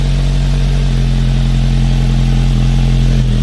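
A misfiring motorcycle engine runs steadily nearby with a rough, uneven, lumpy throb, loud and alone, rising and falling slightly in strength.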